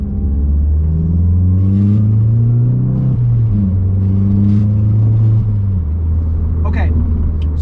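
A Volkswagen MK7 GTI with a newly replaced stock diverter valve is revved hard: a loud, close engine drone climbs in pitch, dips, climbs again and then settles lower, filling the whole stretch.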